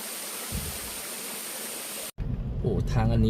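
Steady rushing roar of a natural waterfall in Phu Toei National Park, broad and continuous, cut off abruptly partway through and replaced by someone speaking over a quieter background.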